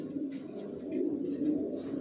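Racer pigeons coo in a low, steady, continuous murmur that swells slightly midway, heard close and fairly quiet with no talking over it.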